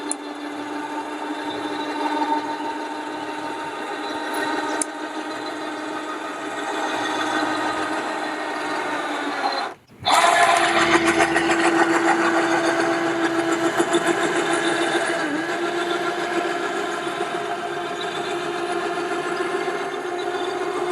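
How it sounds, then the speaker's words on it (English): A motor drives an electric rooftop tent open on a vehicle's roof rack, a steady mechanical whir running throughout with a brief drop near the middle before it resumes, loud and close. "It's an electric tent, and to me the convenience of opening and setting up camp in 20 seconds outweighs the little bit of weight"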